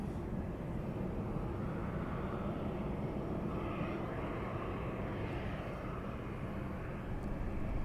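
A Southwest airliner taking off on runway 27 at San Diego, a steady, distant jet engine roar held at even loudness without speech.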